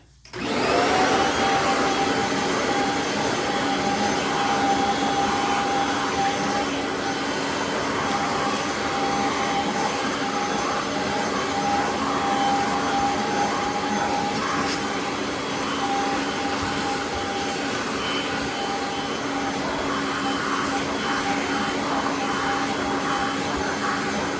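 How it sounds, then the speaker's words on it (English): A Bissell CleanView upright vacuum cleaner runs steadily and loudly throughout, a constant motor whine with a high-pitched tone and a broad rushing airflow. "I'm going to vacuum around here before I do anything else to keep this area clean."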